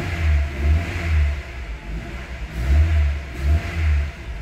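A Mercedes engine with KE-Jetronic injection revs in repeated bursts as the accelerator is pressed, three rising blips with a dip between, loud and close with no talking.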